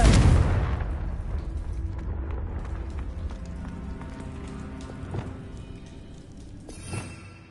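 A Confringo blasting spell cast in Hogwarts Legacy: one loud, booming burst at the start, decaying into a long rumbling tail, with a smaller thud near the end.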